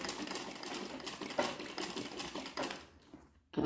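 An embroidery sewing machine stitching a table runner, a fast steady mechanical clatter of needle strokes running continuously, then stopping briefly near the end before restarting.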